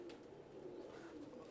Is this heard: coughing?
no